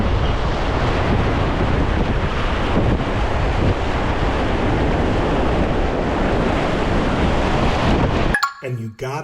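Rapids on the Potomac River at Little Falls at low tide surge in a steady, loud, broadband roar of rushing whitewater, close by and continuous, with wind buffeting the microphone and a brief clatter at the end.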